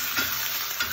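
Spicy squid stir-fries in a hot pan, a loud, close sizzle with scraping swishes as a Cantonese-style spatula pushes the pieces around, no voices.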